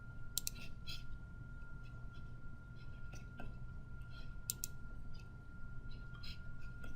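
A computer mouse clicking a download link: faint, sharp clicks scattered irregularly, some in quick pairs, over a low steady room hum and a quiet electronic tone.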